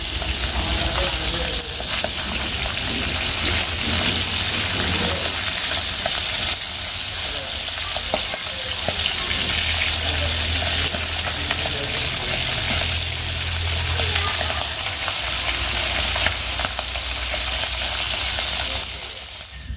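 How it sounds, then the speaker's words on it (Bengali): Hilsa fish frying hard in hot oil, a loud, steady sizzle with frequent stirring scrapes running unbroken through the whole stretch. "মাছটা কিন্তু অনেক কড়া করে ভেজে ফেলছি"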